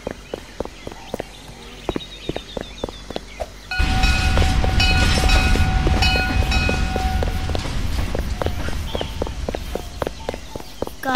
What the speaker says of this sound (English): Guys, since the train's moving,